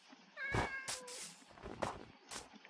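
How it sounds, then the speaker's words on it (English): A tabby cat in Minecraft gives a few close, clear meows, one drawn-out and wavering, with brief gaps between calls and no speech. "There's a kitty cat."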